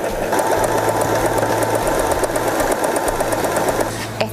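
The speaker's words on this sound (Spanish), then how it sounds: "Comenzá a coser y vas a observar que esta costura elastizada va hacia atrás y adelante." A Janome 3016 sewing machine runs a stretch stitch that moves back and forth, giving a steady, close, even mechanical whir with a rhythmic needle hum that shifts pitch briefly, alone with no talk.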